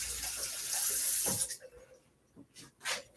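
Tap water runs into a sink while a cut is rinsed, a steady broadband rush for about a second and a half before it cuts off, leaving a few quieter splashes and handling sounds near the mic.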